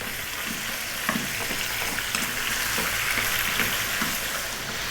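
Lamb pieces with bone and a little fat frying in a pan over medium heat for a curry, a loud, steady sizzle with faint stirring scrapes throughout and no talking.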